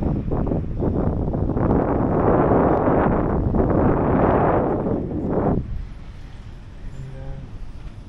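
Strong wind gusting at Jomtien Beach on a hot day, a loud rushing roar buffeting the microphone in surges before dropping away to a quieter breeze near the end.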